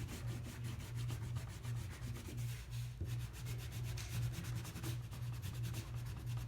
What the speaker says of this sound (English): make sure you're pushing hard enough with that crayon, getting a lot of that wax